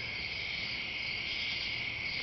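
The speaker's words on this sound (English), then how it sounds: "Crickets, cicadas, katydids." A steady, dense chorus of crickets, cicadas and katydids chirps continuously on a summer night outside a front porch, a high shimmering drone with no voices.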